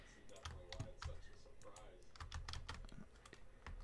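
Rapid clattering keystrokes on a computer keyboard, close and busy, with a voice speaking intermittently underneath.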